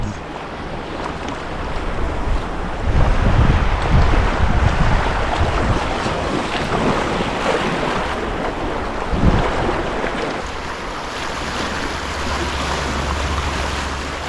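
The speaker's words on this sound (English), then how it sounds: "And low rapids." Low rapids on the Delaware River during a multi-day kayak camping trip, heard as a steady broadband rush of moving water mixed with gusty wind buffeting the microphone, swelling louder early on and continuing throughout with no talking.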